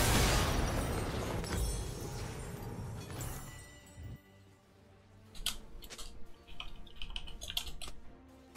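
Rapid bursts of clicky keystrokes on a computer keyboard as someone types into League of Legends all chat, close and crisp after a noisy game-sound stretch, with no talking.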